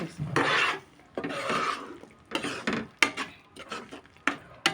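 A spoon scrapes and rasps in a pan while chili powder is stirred into a stuffed eggplant curry, with close, repeated strokes in uneven bursts and short pauses.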